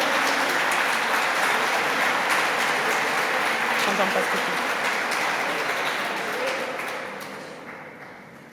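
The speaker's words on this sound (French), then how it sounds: "Merci de les applaudir." An audience at a New Year's wishes speech applauds a group of young people from educational establishments, a dense, steady wash of clapping that holds for several seconds and then slowly thins and fades.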